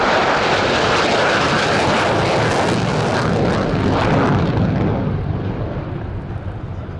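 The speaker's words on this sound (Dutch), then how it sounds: "let u eens op het geluid dat het vliegtuig voortbrengt" A Saab AJS37 Viggen jet roars loudly overhead during an air show flying display, with a broad, rushing engine blast that holds steady and then slowly fades as it passes.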